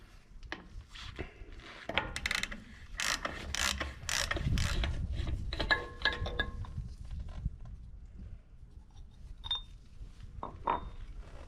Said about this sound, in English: we're going to use the same socket for the inner nut